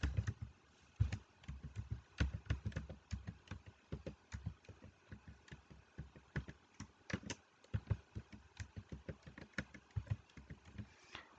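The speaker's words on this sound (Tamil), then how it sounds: "அப்புறம் அதில் இருக்க செக்யூரிட்டி கூட கரெக்டாக டைப் பண்ணிடுங்க." Quiet keyboard typing on a computer, irregular bursts of key clicks with short pauses, close and alone without talk.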